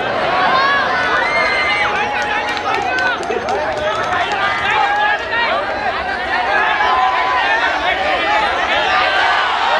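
A large crowd roars and cheers at a Phoolbari F.M. annual function ceremony, dense loud continuous hubbub with overlapping shouting voices throughout.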